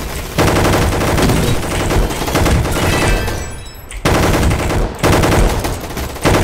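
Rapid automatic gunfire from the Roblox game Gunfight Arena, loud sustained bursts with a brief pause before firing resumes, dense and close.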